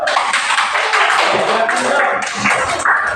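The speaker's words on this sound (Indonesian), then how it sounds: "kita berikan tepuk tangan dulu" A classroom group of teachers gives a round of clapping, a bright, busy patter of hands that carries on evenly at close range with no one talking over it.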